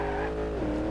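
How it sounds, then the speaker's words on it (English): Drag car engine in the BeamNG.drive driving game, a brief loud continuous tone with strong harmonics and a slight pitch drop midway. "Oh, the drag car. It sounds awesome."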